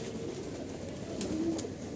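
Pigeons coo softly in a home loft, a low, faint rolling coo rising briefly near the end over quiet outdoor background with a couple of small clicks.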